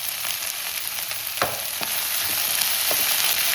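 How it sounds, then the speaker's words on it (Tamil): Curry leaves and vegetables sauté in hot oil with a steady, close sizzle and crackle, punctuated by a few sharp spatters and stirring scrapes. "வெறும்னா எண்ணெயிலே போட்டு வதக்கிக்கலாம்"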